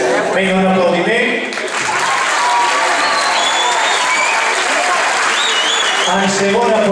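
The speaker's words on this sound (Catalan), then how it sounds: "un aplaudiment" A crowd at a school sports awards ceremony bursts into loud applause, steady clapping that fades near the end as a voice briefly speaks over it.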